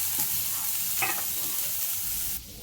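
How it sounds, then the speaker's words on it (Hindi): Spices fry on a high flame, a steady loud sizzle with a scrape of stirring partway through, the hiss dropping slightly near the end. "मैं ये सब हाई फ्लेम पे फ्राई कर रही हूँ"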